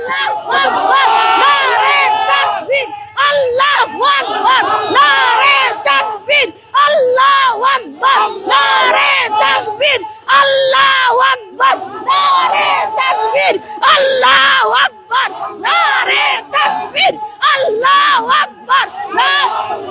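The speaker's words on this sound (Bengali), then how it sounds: "দেখতে পাচ্ছেন নারায়ে তাকবীর আল্লাহু আকবার এমন স্লোগান আসলে দিচ্ছেন" A large crowd at the demolition of Sheikh Hasina's house No. 32 chants the slogan "Naraye Takbir, Allahu Akbar" in loud, rhythmic call-and-response bursts of shouting, close and continuous with brief pauses.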